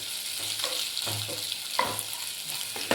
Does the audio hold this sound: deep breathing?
no